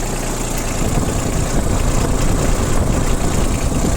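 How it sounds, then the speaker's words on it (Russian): A Yanmar Ke-60 tractor with a front loader idling steadily, a loud, continuous low diesel rumble with a rough, even throb and vibration, close by and unbroken, no voices. "Я думаю, что отлично слышно, как трактор работает."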